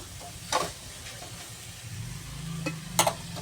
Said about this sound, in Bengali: দেখো আবার ফুলকপি আলু ভাজতে দিয়েছি, নরম হয়ে এসেছে